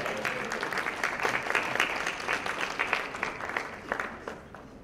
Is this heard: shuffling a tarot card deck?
no